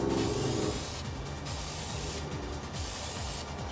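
Spray paint hisses onto a Mazda RX-7 FC rear brake caliper during a rebuild, in three close, steady bursts separated by short pauses.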